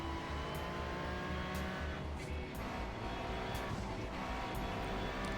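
Ferrari 296 GT3 with a twin-turbo V6 in the iRacing sim, a 1.5-ton race car whose engine drones steadily with pulsing gear and throttle changes and faint clicks, quiet and continuous with no speech.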